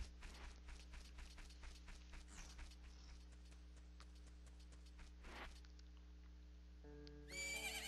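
Epona the horse from the video game Zelda: Majora's Mask whinnies and neighs amid a steady run of clip-clopping hooves, close and clear over a low game hum, with a brighter chiming burst near the end.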